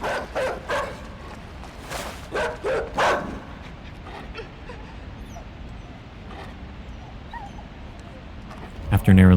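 A dog in a video game barks and whimpers in a run of short, loud yips and cries near the start, then goes quiet under a low background hum before a sudden loud burst at the end.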